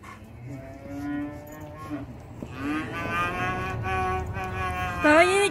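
A young calf on a farm bellows again and again, drawn-out moos rising and falling, close and clear over faint background farm noise.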